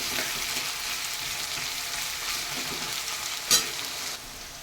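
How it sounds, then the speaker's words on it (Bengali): Onions frying in a pan until browned, a continuous close hiss of sizzling oil that holds steady throughout, broken by a single brief clink just past the middle. "পেঁয়াজগুলো আমি লাল লাল করে ভেজে নেব।"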